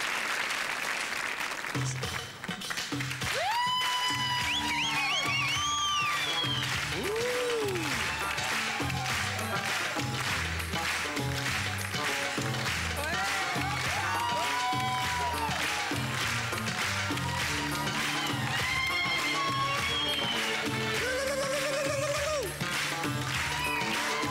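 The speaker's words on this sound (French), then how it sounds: "Applaudissements pour Claude, mesdames et messieurs" Studio audience applause on a French family quiz show, a dense sustained clapping wash lasting throughout, with upbeat oriental-style music and melodic tones layered over it.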